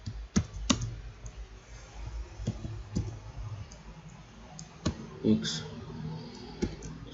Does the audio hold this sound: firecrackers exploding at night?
no